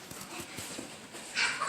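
A dog pants in quick soft breaths and gives a brief high whimper, close and fairly quiet.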